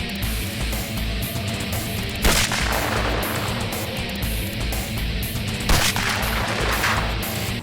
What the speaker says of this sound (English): we'll get this old Mossberg sighted in